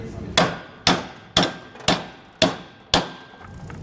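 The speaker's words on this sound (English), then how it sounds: "we can grab our hammer and hammer down on this side to get it stuck into place" A hammer strikes a trailer leaf spring bolt to seat it into its hanger: six sharp metallic blows at an even, unhurried rhythm, each with a short ringing decay, close and alone.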